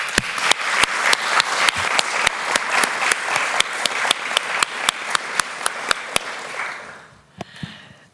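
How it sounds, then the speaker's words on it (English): An audience at a science debate claps steadily with sharp, close hand claps over a dense wash of applause, thinning and fading out near the end. "Let's thank the speakers also with a round of applause."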